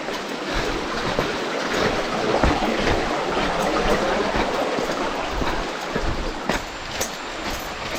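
Spring-fed waterfall at Fuyot Spring in Ilagan Sanctuary, a steady, full rush of falling water that never lets up, close and loud with a dense hiss and no voices.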